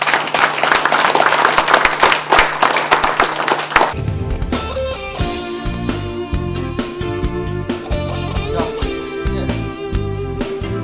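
A crowd at a formal ceremony marking the founding of a Busanjin-gu operations headquarters of the World Green Climate Association claps loudly and densely for about four seconds before music abruptly takes over.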